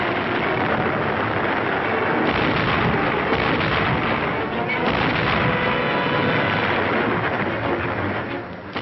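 A 1945 artillery battery fires without letup, a dense, loud roar of booming guns and blasts that carries through the whole stretch.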